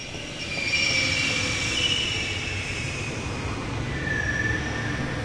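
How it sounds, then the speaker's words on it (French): A metro train arrives in The Longest Journey video game, a steady rumbling rail roll with high-pitched wheel squeals rising over it, fairly loud and continuous. "Le métro."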